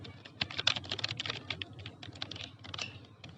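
Steady, close typing on a computer keyboard while working in Photoshop, a quick run of light key clicks with no talking.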